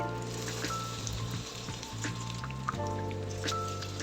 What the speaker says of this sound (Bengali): একদম অল্প তেলে ভেজে নিব